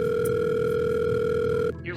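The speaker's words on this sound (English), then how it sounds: "Anne called the liquor store again." A telephone tone sounds during a call to a liquor store, a steady, loud electronic tone that cuts off abruptly near the end, followed by a brief noise that may be a voice.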